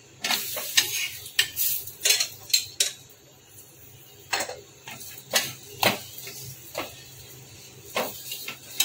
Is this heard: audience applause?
no